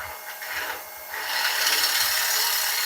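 A woodturning tool on a lathe peels shavings from spinning wood, making a close, continuous hissing scrape that grows rougher and louder partway through.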